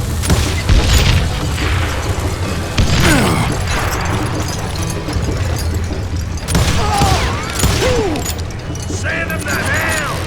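Rapid revolver and rifle gunfire in the Western shooter Call of Juarez Gunslinger, loud repeated bangs and booming shots layered under shouting character voices.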